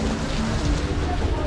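Steady, dense rain falls in the Philippines, a continuous hiss of drops on surfaces filling the short stretch without pause.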